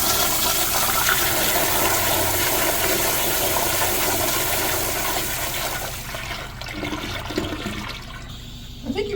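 Kohler Wellcomme 3.5 gallon toilet on a flushometer valve flushing with a loud, forceful rush of water that continues steadily, then tapers into a quieter trickle and refill at the end.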